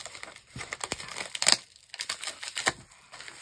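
A plastic bag from a Temu haul package is handled close up, giving repeated crinkly rustles and sharp crackles in irregular bursts with brief pauses, moderately loud and with no talking.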